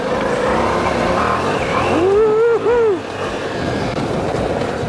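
Ducati Multistrada V4 Rally motorcycle accelerating hard, a loud engine whine rising in pitch and briefly breaking at a gear change, over constant wind and road noise.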